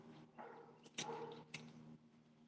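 A dog at a kennel gives a few short, faint barks and yips at a distance, spaced over a couple of seconds in a quiet setting.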